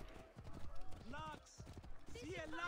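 A horse's hooves clip-clop in a video game, a rhythmic hollow patter running under a man's speech.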